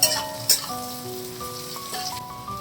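Cauliflower fries in oil in a pan with a soft, continuous sizzle and crackle, two brief louder bursts of spattering, and faint tonal background sounds.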